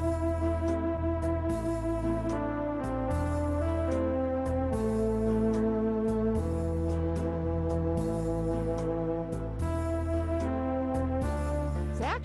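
Song chords played as written in a virtual music class, a steady sequence of sustained, rich chords changing every second or so, played loud and continuous with no talking over them.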